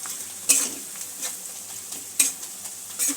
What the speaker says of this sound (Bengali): একটু নাড়া দিয়ে নেব।